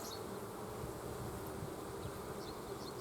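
A swarm of honeybees hums at an open beehive during hive work, a soft, steady buzz with a few individual bees droning past, fairly faint and without talk.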